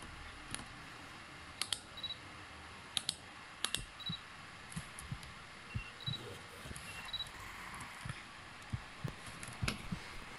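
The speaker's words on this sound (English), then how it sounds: "If you hear a heartbeat, then he's near" Heartbeat warning cue in the Roblox horror game The Rake, sounding as soft, faint thumps scattered across a quiet ambient background, with a few sharper clicks mixed in and no talking.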